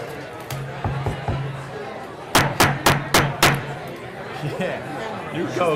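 Gavel banging at a township council meeting: four sharp, evenly spaced raps stand out clearly above steady room chatter and talking from the crowd.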